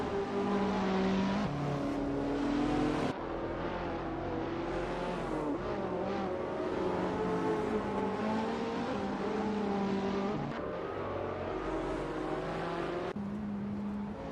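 Simulated hypercar racing engines drone continuously at close range, pitch rising and falling through gear shifts and revs, with several cars overlapping and no talk.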